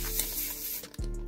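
A small hand ratchet turns the drain bolt on a Kawasaki KX450 motocross bike during an oil change, a close, steady rasping clicking that breaks briefly near the end and then resumes.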